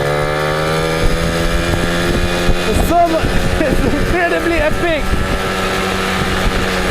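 A Honda MotoCompo 50cc two-stroke scooter engine hums steadily up close while a person speaks briefly over it, with some wind buffeting the microphone.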